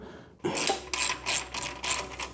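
A ratchet socket wrench turns a 13mm nut on an Indian FTR motorcycle, giving about five short bursts of rapid clicking in an even back-and-forth rhythm, close and fairly quiet.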